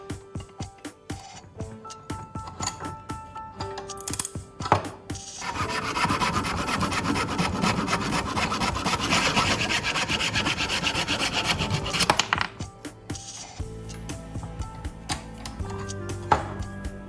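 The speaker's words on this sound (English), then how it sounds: "PVC can sometimes be tricky if the grip isn't stable, but with this new handle, it's actually really easy to cut through." A hand saw fitted with a new handle cuts through PVC, giving quick irregular scraping strokes that settle into a dense, steady rasp in the middle before stopping, then a few scattered knocks and scrapes, with no talk.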